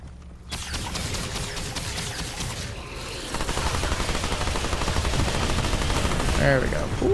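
Dense, continuous gunfire in the video game Remnant 2, rapid automatic shots mixed with loud combat effects and a thick music or ambience bed, steady and intense throughout.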